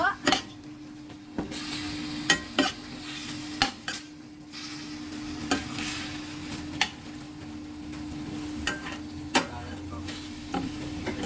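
Pork being stirred in a frying pan, a quiet sizzle under sharp, irregular clinks of a utensil against the pan, close by, with no speech.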